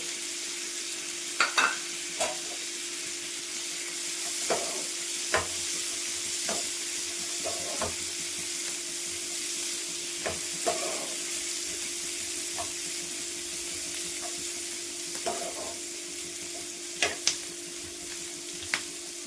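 Cashews with ginger and garlic cloves fry in oil in a pan, giving a soft, steady sizzle and scattered light pops and spoon taps over about twenty seconds, with no talking.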